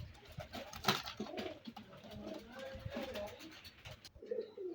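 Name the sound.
teddy pigeon chicks cooing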